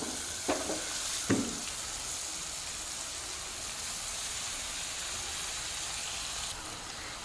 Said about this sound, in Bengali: টমেটোটাকেও একটু ভালো করে নাড়িয়ে ভেজে নেবো